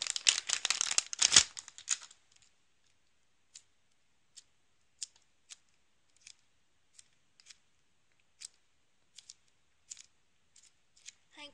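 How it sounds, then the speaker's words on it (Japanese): Packaged handmade balloon doll being opened: a brief burst of close crinkling and rustling plastic wrap, then a sparse run of faint, isolated clicks and ticks. "こちらはちょっと開封していきますね。"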